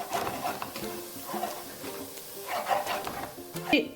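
Coconut paste being stirred into chicken curry masala in a pan, with soft scraping and stirring strokes over a gentle, low sizzle, close and moderately quiet.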